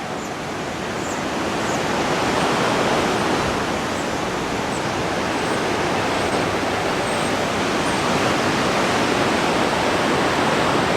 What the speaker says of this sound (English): Big waterfall, or the dam.